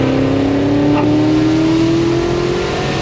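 A Whipple-supercharged Ford Mustang GT350 making around 800 wheel horsepower revs hard under acceleration, its engine note climbing steadily in pitch, loud and close throughout, with no talking.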